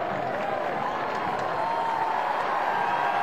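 A stadium crowd at an LSU college football game against Tulane cheers in a steady, distant roar with scattered applause, holding a constant level throughout.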